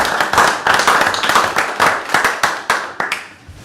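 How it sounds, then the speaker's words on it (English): A small group claps at a county fiscal court meeting: a short burst of sharp, uneven hand claps that thins out and fades after a few seconds. "Well, we could all give her a round of applause."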